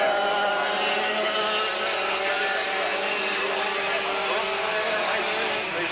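Stock-engine dirt karts racing on a track, a continuous high buzzing engine drone that holds steady and loud with no break.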